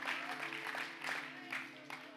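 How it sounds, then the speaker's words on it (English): Scattered, thin applause from part of a church congregation, a few pairs of hands clapping unevenly at moderate distance in a room, with a voice over the top. "I only got half the room clapping."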